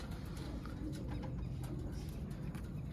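Purebred pigeons coo in a steady low murmur, several birds close by, against a continuous background rumble with no voices.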